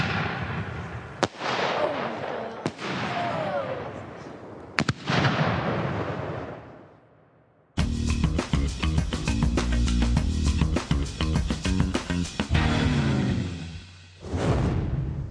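Firework shells with star effects burst in loud, sharp bangs, first a few isolated cracks with decaying rumble, then a dense crackling barrage of rapid reports before a final burst.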